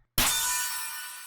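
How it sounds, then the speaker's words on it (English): A single trap metal snare hit from an FL Studio drum kit, one loud, bright, noisy crack that rings out with a long hissing decay, alone with nothing else playing. "And then I just have a snare here that sounds like this"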